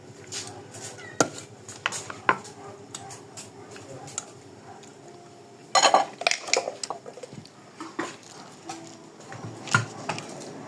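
A spoon stirring food in a metal pot, irregular clinks and knocks against the pot's sides, with a denser burst of clattering midway and scattered taps after.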